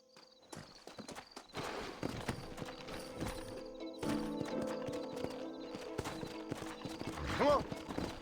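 Horses in the Red Dead Redemption video game clop along with steady hoofbeats, and a loud whinny rises near the end, with game sounds and a voice in the mix.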